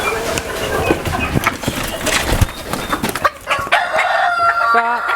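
A Black Tail Japanese bantam, a very small chicken breed, crows loudly and close at a fancy-poultry farm. Clucks and other fowl sound around it, with a faint voice in the background.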